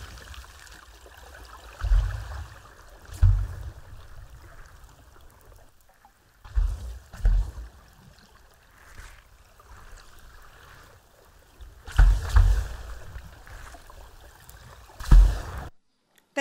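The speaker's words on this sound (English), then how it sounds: "That's the noise of gannets diving." Gannets dive into the sea in a feeding frenzy, each entry a short splashing plunge heard in irregular bursts over low steady water and wind noise, some close and loud, others faint.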